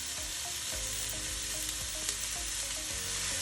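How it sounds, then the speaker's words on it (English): Sweet onion sautéing in olive oil in a pan sizzles with a steady crackling hiss, and occasional stirring knocks sound underneath. "You just want to saute that in the olive oil until it gets nice and golden"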